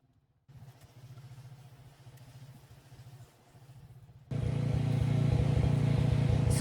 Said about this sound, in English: there's some power washing happening in the garden next to mine